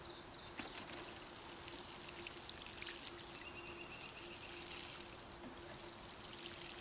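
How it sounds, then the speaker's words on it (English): Water pours steadily from a can onto newly planted beans in a Nova Scotia vegetable garden, a soft continuous trickle and patter close by, with no talking. "Let's give these a water."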